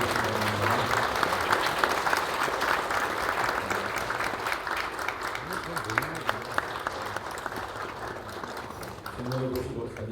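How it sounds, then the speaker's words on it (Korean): An audience claps steadily at a regular meeting of the Korean Presbyterian presbytery of Pyongyang, a sustained bed of applause for about ten seconds with voices talking over it before it thins at the end. "박수로 주시기 바랍니다."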